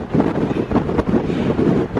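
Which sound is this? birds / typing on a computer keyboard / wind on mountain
wind on mountain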